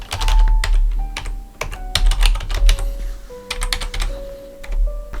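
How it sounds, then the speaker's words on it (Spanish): Password being typed on a computer keyboard: rapid, irregular bursts of crisp key clicks at close range, with short pauses between runs of keystrokes and no speech. "Vamos a entrar en esta cuenta, por ejemplo, introducimos la contraseña."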